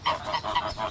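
A flock of geese in an orchard honks in quick repeated nasal calls, several overlapping honks sounding loud and close, with no talking.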